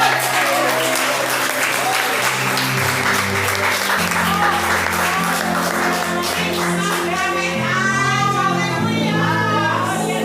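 A church congregation at an Assembleia de Deus evening worship service applauds loudly and continuously, dense clapping filling the hall with voices and shouts mixed in underneath throughout.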